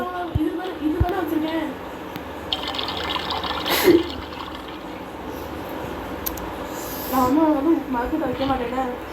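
Water being poured into a cup in the survival video game Raft, a liquid filling sound heard beneath people talking, with a brief louder splash partway through.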